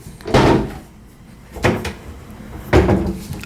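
Cabinet doors in a renovated hotel room at the Crowne Plaza Houston Galleria open and shut in three separate close knocks and thuds, spaced about a second apart, with no one talking.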